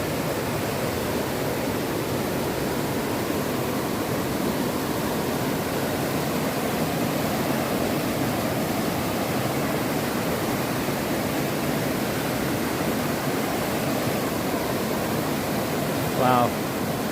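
A stream rushes across a hiking trail on the Ottawa Temiskaming Highland Trail, giving a loud, constant, broadband roar of moving water with no pauses and no clear voices.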